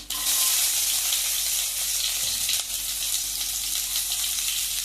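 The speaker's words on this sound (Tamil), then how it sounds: "இப்போ நம்ம கட் பண்ணி வச்சுருக்க பூண்டு ஆட் பண்ணிக்கலாம்." Garlic sizzles and crackles steadily in hot oil with mustard and cumin seeds for an egg curry, a dense, loud frying hiss that runs unbroken throughout with no voices.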